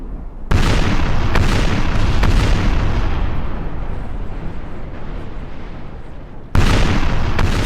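Naval cannons roar in a Napoleon Total War sea battle, ships hove to and firing broadsides: heavy continuous booming that swells, eases, then erupts again near the end, loud and close.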